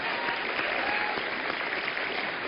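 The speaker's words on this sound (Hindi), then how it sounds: "सो इस बात के लिए तालियां होनी चाहिए।" Audience applause after an announcement at a Hindi-language talk event, a steady dense clapping wash filling the whole moment at moderate distance, with no voices over it.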